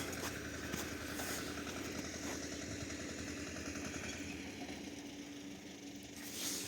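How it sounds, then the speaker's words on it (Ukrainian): Steady low engine rumble of a tractor running nearby, continuous with slight clatter, no voices. "ще не буде, бо трактор їздить"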